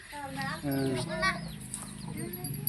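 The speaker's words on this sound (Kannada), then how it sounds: "ಮರಿಗಳ ಸಮೇತ ಕೋಳಿ" A hen clucks softly amid high, thin cheeping from chicks, with people talking nearby throughout.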